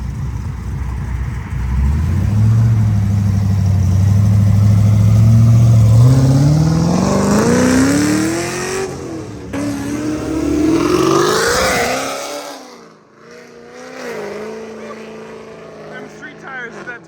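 A Pontiac G8 and a Chevrolet SS rolling out of a car meet, engines loud and close, revving up in a rising pitch sweep, then pulling away and fading over several seconds, with people talking in the background.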